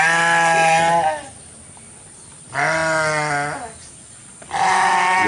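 Goats bleat loudly and close, three long wavering cries separated by short pauses, with no talking.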